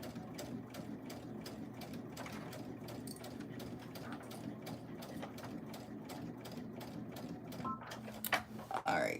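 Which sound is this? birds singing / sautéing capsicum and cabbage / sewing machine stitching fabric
sewing machine stitching fabric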